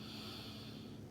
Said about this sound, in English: tilt your head down, sniffing your armpit.